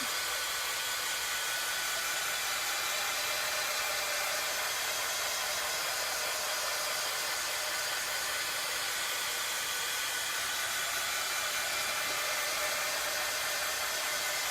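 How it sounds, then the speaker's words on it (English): A heat tool blows hot air steadily to dry craft paint on a decorated pizza pan, a continuous close, even whooshing hiss with no pauses and no talking. "I'm going to grab my heat tool and I'm going to get this all dried up"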